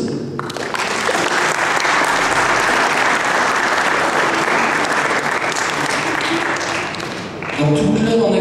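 Sustained loud applause from a crowd at a prize-giving ceremony in Fourmies, steady clapping filling the whole stretch, with a brief dip near the end before it swells again.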